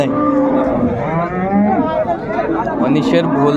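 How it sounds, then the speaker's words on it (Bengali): A dairy cow and calf at a busy village cattle market in Dinajpur, with a close, drawn-out moo that rises and falls while people chatter nearby. "বেশ সুন্দর গাভী বাছুর"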